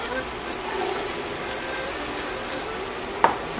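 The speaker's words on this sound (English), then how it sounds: "So what we're gonna do is add the onions to the skillet, the chopped onions, also the carrots." Chopped onions and carrots sizzling in a skillet over browned pork drippings, a steady close hiss with one sharp clink near the end.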